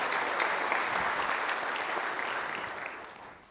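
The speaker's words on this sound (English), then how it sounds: "let's give everyone in Cal State Long Beach a big round of applause for this project" Audience applause for a Cal State Long Beach project at a Long Beach development update event, a steady dense wash of clapping from a crowd that holds for a few seconds before gradually tapering off.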